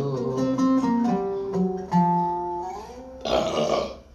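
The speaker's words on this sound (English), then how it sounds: "beer burps." A long, drawn-out beer burp rumbles close and loud, shifting pitch over several seconds before ending in a rougher, breathy burst.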